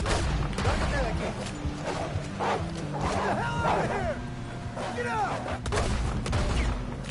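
Scattered gunshots and volleys ring out in a Red Dead Redemption 2 western gunfight, mixed with shouting voices and dogs barking, and game dialogue runs over the shots throughout.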